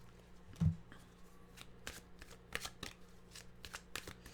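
A deck of animal oracle cards is shuffled in a quiet meditation setting, giving soft, close papery riffles and flicks in irregular bursts, with no talking.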